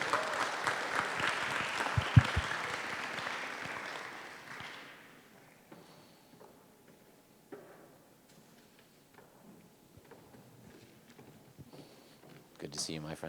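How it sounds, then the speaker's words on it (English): An audience at a creative economy forum in the Teatro Petruzzelli, Bari, applauds a session moderator, with steady clapping for about five seconds that then dies away into a quiet hall with a few small knocks and shuffles. "Please give her a warm round of applause."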